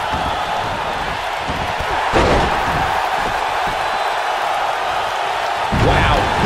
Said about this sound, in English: he just slammed him with ease